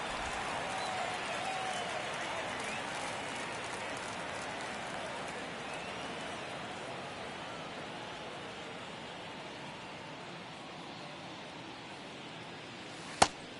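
Baseball stadium crowd in MLB The Show 23 during the bottom of the ninth of a Marlins vs Cubs game, a steady broad murmuring roar that slowly fades, with a sharp crack near the end.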